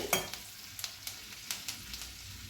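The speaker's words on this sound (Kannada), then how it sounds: "ಸ್ವಲ್ಪ ಕಲರ್ ಚೇಂಜ್ ಆಗೋವರೆಗೆ ಇದನ್ನು ಗಾರ್ಲಿಕ್ಕನ್ನು ಫ್ರೈ ಮಾಡಬೇಕು" Chopped garlic frying in oil for lemon rice, a steady soft sizzle with a series of sharp scraping stir strokes, close and on its own.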